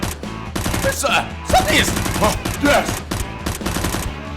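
Toy Nerf blaster firing in a rapid, continuous burst of shots during a staged mock fight, loud and close, with music and a shouted exclamation over it.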